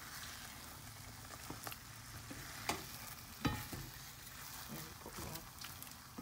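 Mashed sweet potato with coconut milk and milk is stirred in a pan for nilupak na kamote, giving soft, sticky scraping and gentle sizzling with occasional spoon knocks. The sound is fairly quiet and close.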